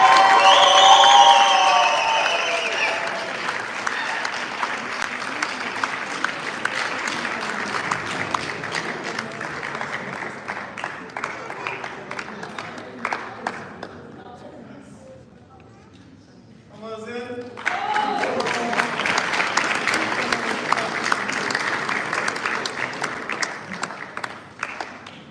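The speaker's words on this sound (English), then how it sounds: "Please just give a big round of applause to Adeyemi, Babington, Ashaye." A graduation ceremony crowd claps and cheers loudly in a hall, dense applause that dips briefly to near quiet midway before surging back, with an announcer's amplified voice over the start.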